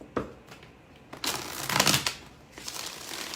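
Tarot cards are shuffled close by in several quick, crisp bursts of riffling and flapping, the loudest in the middle, with short quiet gaps between them and no talking.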